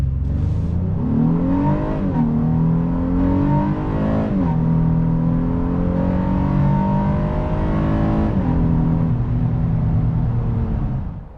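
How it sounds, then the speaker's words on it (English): A 2024 Honda Ridgeline Trailsport pickup engine revs hard to high RPM, rising and falling in long loud pulls close by, with no talking. "it also makes some really good noises up in the higher RPMs as well"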